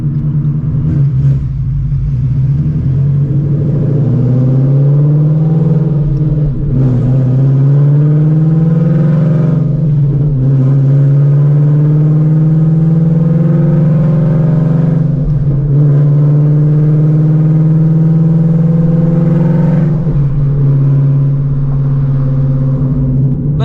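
An 800HP Shelby GT350 cruising in traffic gives a loud, continuous engine drone near the listener, its pitch dipping and climbing again at several gear changes, with no talking.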